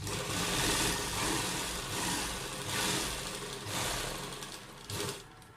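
A sewing machine stitches along the edge of buckram around a kurta neckline, a rapid steady whirring run with brief pauses and restarts, close and fairly loud with no voices.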